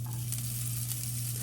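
Sausage pieces and zucchini sizzle steadily in a hot pan, a continuous close frying crackle with a low steady hum underneath and no talking.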